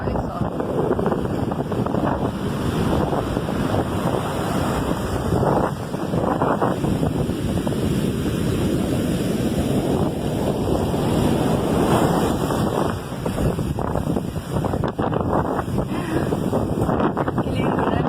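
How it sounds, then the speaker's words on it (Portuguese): Rough sea surf and gusting wind on a Rio de Janeiro beach, a loud continuous roar of breaking waves with heavy wind buffeting the microphone throughout. "O mar está revolto."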